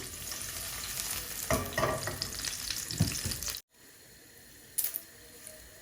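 Dried chillies and leftover garlic fry in hot oil with a close, steady sizzle and scattered stirring clatters, cutting off abruptly, then a quieter stretch with one short clatter.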